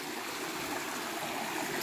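A small, low-water river flows steadily, a continuous close rushing and trickling wash with no voices or other sounds.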